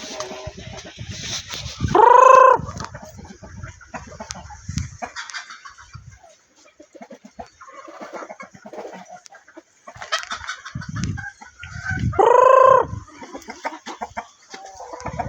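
A rooster crows loudly and close by twice, well apart, with softer clucking and scattered farmyard noise filling the gaps between.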